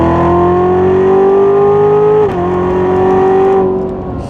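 A stock Chevrolet Corvette Z06 engine pulls hard under acceleration, a loud, close, steady drone that climbs in pitch, dips briefly as it shifts, then rises again before easing off near the end; no one talks.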